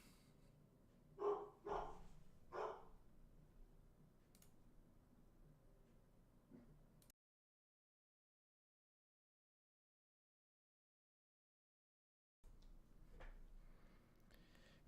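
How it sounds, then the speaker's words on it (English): Several dog barks in quick succession near the start, fairly close and moderately loud, then quiet room noise, a long stretch of silence, and faint rustling at the end. "My dog is barking."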